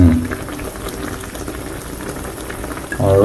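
Onion rings frying in a pan alongside pork steak, a steady close bubbling sizzle that holds evenly throughout with a slight rise at the end.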